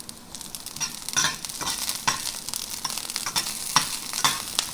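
Broccoli stalks cooking in a very hot pan give a steady close sizzle, broken by repeated bright scraping stirs at an uneven pace, with no voices.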